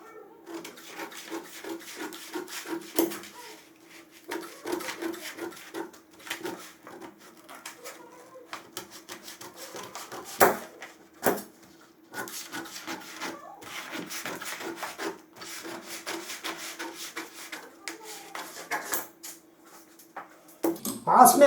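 Scissors cut through pant fabric at a tailoring table, with a string of close, dry snips and rustles in uneven bursts and no talk.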